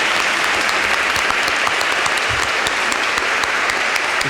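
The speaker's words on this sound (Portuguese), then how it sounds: "E vamos acolher o Dom Celso Alexandre com a salva de palmas nessa Santa Missa." A congregation at Catholic Mass in São Paulo applauds to welcome the auxiliary bishop, loud sustained clapping from a large crowd filling the whole stretch without pause.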